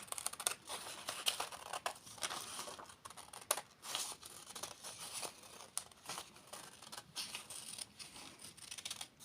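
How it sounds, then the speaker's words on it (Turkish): Quick crisp scissor snips and crinkling of A4 paper close by, a steady run of short cuts and rustles with no talking. "Makasla A4 kağıdımızı ayırdık ve açıyoruz."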